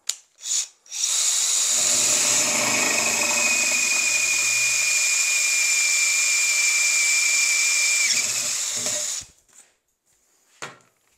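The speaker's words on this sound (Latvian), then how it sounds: "Uzvērsim lielāku urbumu." A FEIN VersaMAG magnetic drill cuts a larger hole through metal, a steady loud whine with a high tonal ring holding for about eight seconds before spinning down, with brief clicks before and after.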